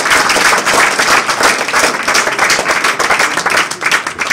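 An audience at a certificate distribution ceremony applauds loudly and steadily, a dense wash of many hands clapping together throughout without speech.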